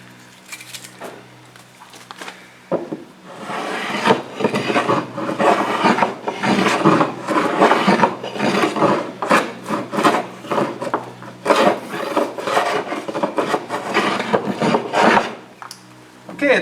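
Thickened epoxy fairing on a wooden boat is roughed down by hand with rhythmic rasping strokes. The scraping runs loud and close in a long, even series, briefly pausing before the final strokes.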